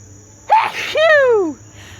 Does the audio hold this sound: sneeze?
yes